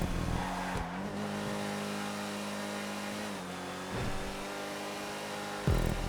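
Simulated V8 race car engine in a GTA racing game, revving steadily with shifting pitch and a couple of sharp throttle blips, loud and continuous with no talk.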